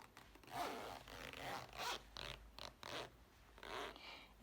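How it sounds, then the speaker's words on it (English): A zip on a summer dress is pulled closed in several short, scratchy rasping strokes, close up and quiet, with brief pauses between pulls. "Close your zip."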